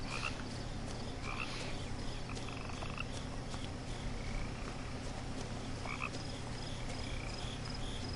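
Frog croaking in the video game What Remains of Edith Finch, a steady low croaking bed running throughout with faint higher calls scattered above, continuous and moderately quiet with no talk.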